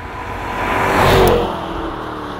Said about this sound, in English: Jaguar's proprietary exhaust is called acoustic exhaust